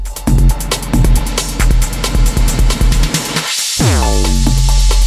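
An electronic music beat plays with rhythmic hits, then drops out briefly before a bright, high-pitched swirling reverb tail from a Pioneer DJM-900NXS mixer's reverb effect rings out and sweeps down over the beat.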